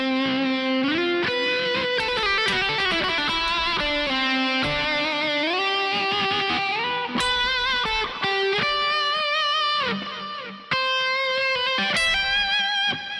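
Electric guitar solo played through a Hot Rod 100 amp capture with smooth distortion, sustained bending lead notes and fast runs ringing loud and continuous, with brief breaks near the end.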